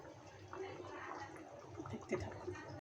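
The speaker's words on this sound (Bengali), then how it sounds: "তরকারিটা আমি এই কড়াইটার মধ্যে ঢেলে দিলাম" Curry pours from a pot into a kadai (wok): a close, steady wet pour with a few splashy bumps, cut off by a sharp dropout just before the end.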